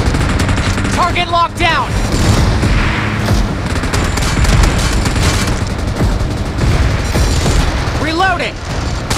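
Loud, dense automatic gunfire and heavy booms fill a PUBG Mobile team deathmatch without pause, while a synthetic game voice calls out target alerts on top of the shooting.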